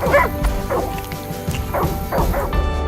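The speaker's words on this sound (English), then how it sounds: "Realizing that yes, you can pet the dog in Far Cry 5. Good boy, Boomer." Boomer the dog in Far Cry 5 lets out several sharp barks and yips in quick succession, close and loud against game background sounds.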